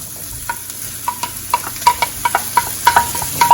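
Red, green and yellow peppers being stirred in a frying pan for quesadillas: a steady sizzle with regular utensil scrapes and taps about every third of a second, close and clear, with no voices.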